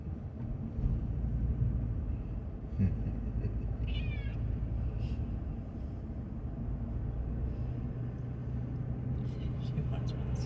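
A cat meows a few times in a suburban setting, the cries faint and brief beneath a steady low engine rumble, with people talking nearby.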